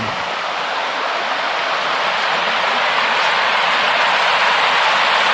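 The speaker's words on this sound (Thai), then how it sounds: "น้ำไหลน้ำล้นสปริงเวย์" Water pours over the spillway of the Mae Chang Khao reservoir, a loud, unbroken roar of rushing overflow heard close by, with no voices.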